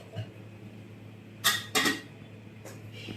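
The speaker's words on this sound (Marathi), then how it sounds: "पुन्हा एकदा ह्याचं झाकण लावून टाकूयात" A pot lid set down on a pot of panchdal amti (Marathi lentil curry), two sharp close metallic clinks in quick succession followed by a fainter tap, over quiet kitchen background.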